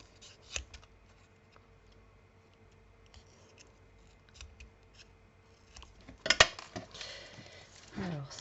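Scissors cut through card for a handmade multi-function card: quiet, sparse snips and paper rustles close by, with a louder crisp cut and handling noise near the end.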